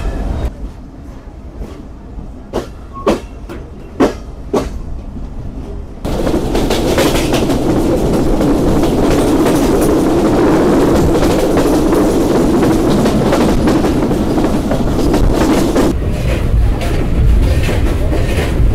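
The Banglabandha intercity express in Bangladesh, riding in a white coach after leaving Arani station: a few sharp isolated clanks, then a sudden loud, steady roar of wheels and rattling carriage on the track, heard from inside.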